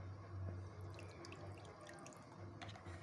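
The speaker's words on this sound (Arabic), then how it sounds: "وهحط عليها شوية مية مش كتير، لما بنزود واحدة بواحدة، وشوية خل" Water and vinegar are poured in small amounts onto a tahini salad, making a faint, soft trickling and dripping close by with no talking.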